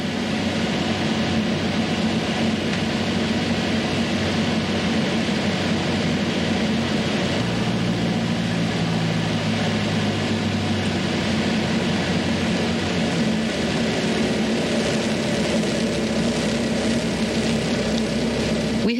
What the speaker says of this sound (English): We have landed safely in Modesto, traveling point to point using pilotage.